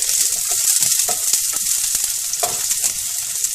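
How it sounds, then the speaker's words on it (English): Chopped garlic frying in a little oil for a Mangalorean chicken curry, a loud continuous hissing sizzle with crackling pops throughout, close and unbroken by speech. "I added little oil and now I'm going to fry chopped garlic."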